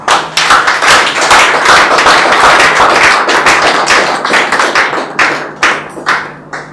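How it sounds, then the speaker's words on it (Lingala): Sustained, dense audience applause from a gathering at a religious or memorial event, with a full wash of clapping that thins toward the end into scattered claps before fading. "nous pouvons remercier par les applaudissements très nourris"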